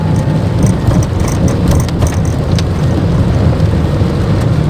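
Steady rain drums on a car at night while the wipers keep running on a drive from Sumedang to Malangbong, with a continuous broadband wash and low engine rumble, no speech.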